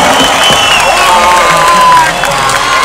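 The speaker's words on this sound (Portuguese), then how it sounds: "uma salva de palmas pra todo mundo que tá aqui, galera" A packed concert crowd at a band's tribute to a late singer at Espaço das Américas cheers and applauds loudly, a continuous roar of voices, whistles and whoops with clapping mixed in throughout.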